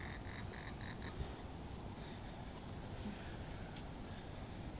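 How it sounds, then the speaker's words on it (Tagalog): Frogs croaking in a park near a lake, a faint repeated chorus of short calls over constant wind and outdoor background noise. "narinig niyo yung kukak ng palaka."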